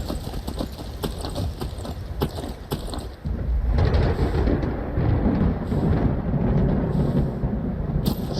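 Low, rolling thunder in the fantasy video game Skyrim, a loud sustained rumble swelling partway through and mixed with a faint rhythmic clatter.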